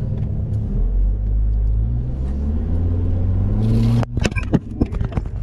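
A 2007 Hummer jeep driving in low-range gear, a loud, close, steady engine rumble and road noise that breaks up into clunks and rattles near the end, with no talk over it.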